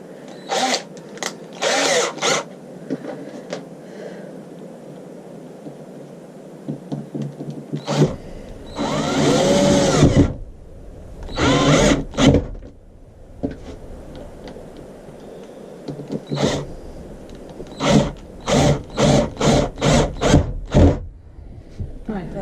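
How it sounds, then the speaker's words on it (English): A power drill drives screws into a wooden mould box for resin casting, giving several short whirring bursts in close succession up close, with quieter handling clatter and a few brief knocks between them. "I should now be ready to get screws in."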